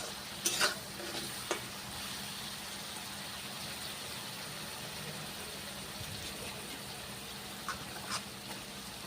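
Spices with dried chilli powder fry quietly in a pan while being stirred, a soft steady sizzle broken by a few scraping clinks of a spatula near the start and end.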